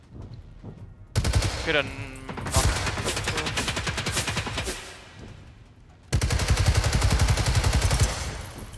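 Rapid automatic gunfire from the video game Generation Zero plays as loud, dense bursts, one long stretch, a short pause, then another sustained burst, with a brief spoken remark between them.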